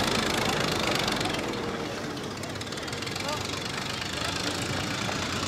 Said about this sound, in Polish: Jeszcze wóz pracuje!